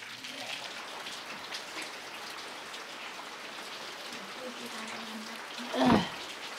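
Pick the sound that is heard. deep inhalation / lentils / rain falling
rain falling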